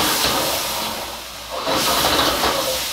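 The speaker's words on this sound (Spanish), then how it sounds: "tiene que saltearse la cebolla, freírse la cebolla" Onion and chicken sizzle in hot oil with soy sauce for a stir-fried broccoli dish, a steady loud frying hiss that dips briefly in the middle and then swells again.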